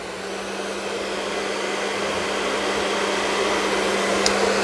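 Electric heater fan set to low with no heat, running off a Bluetti lithium power supply: a steady close whoosh of airflow with a constant low electrical hum beneath, rising slightly in loudness over a few seconds.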